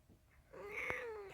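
A pet cat indoors in a craft room lets out a single drawn-out meow, fairly quiet and close, rising then falling over about a second against a faint background.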